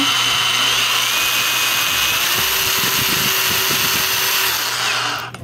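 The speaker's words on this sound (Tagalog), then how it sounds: "Ganyan kaganda yung ating Tanzu dito na cordless angle grinder." A Tanzu cordless angle grinder runs at speed with no load, giving a loud, steady high-pitched whine that holds for several seconds before spinning down at the end.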